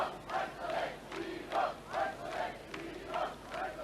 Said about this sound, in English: So the crowd settle down after that medal ceremony, and we'll get ready for our next final.